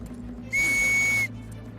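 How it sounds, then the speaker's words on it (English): One shrill, steady whistle blast lasting under a second, clear and close against a quiet background. "So he blew his whistle."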